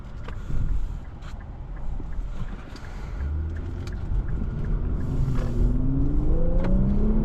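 A 2024 Infiniti Q50 Red Sport 400 AWD sports sedan accelerates, heard from inside the cabin, a low rumble rising steadily in pitch and loudness as the revs climb over several seconds.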